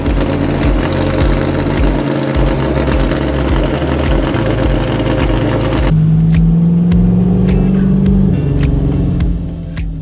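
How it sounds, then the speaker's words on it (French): An AC Cobra Daytona, the bodied version of the Cobra, runs its engine at a historic racing event: a loud, continuous roar, with a rising drone in the second half as it accelerates. "nous retrouvons un véhicule exceptionnel et mythique, la Daytona, qui est une version bodybuildée de l'AC Cobra"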